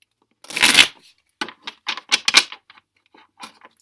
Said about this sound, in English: let me just do a quick shuffle of my clarifying deck